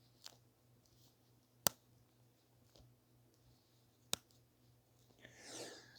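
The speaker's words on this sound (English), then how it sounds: "when it's folding, it almost sounds like, I don't know how to describe it, saran wrap or kind of like this weird plasticky feel" Samsung Galaxy Z Fold 4 hinge being opened and closed close up, a few faint sharp clicks spaced seconds apart with a soft plasticky crinkle at the end, in a quiet room.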